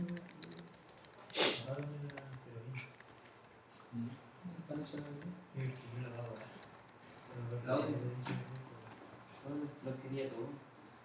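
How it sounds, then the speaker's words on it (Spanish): Someone types on an American-layout computer keyboard in a classroom setting, giving scattered clicks and short runs of keystrokes under nearby talking. "Estoy con teclado americano."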